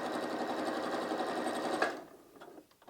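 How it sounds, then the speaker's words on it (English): Sewing machine stitching straight across a tripled layer of fabric at roughly a 3 mm stitch length, a fast steady mechanical whir with a tight rhythmic chatter, close and alone, stopping abruptly with a few small clicks. "And then I just stitch across."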